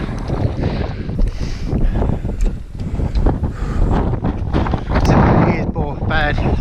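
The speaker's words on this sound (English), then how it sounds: "the wind's picking up" Wind gusts across an exposed slope about halfway up Scafell Pike, England's highest mountain, roaring continuously as broadband rumble and buffeting against the microphone, with people talking through it.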